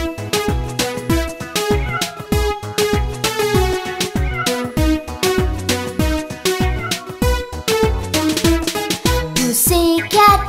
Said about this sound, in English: Meow! Meow, meow.